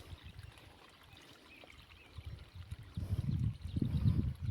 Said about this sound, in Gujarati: જોઈ લ્યો આપણે પાણી ચાલુ કરીને આંબાને પાઈ દીધો હતો।